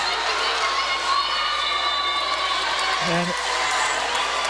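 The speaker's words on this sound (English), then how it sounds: "The Taft crowd going absolutely crazy." Crowd at a 2013 girls' high school volleyball championship match, Taft vs. Venice, cheering and shouting loudly and continuously across the whole stretch, with a brief voice speaking through the roar.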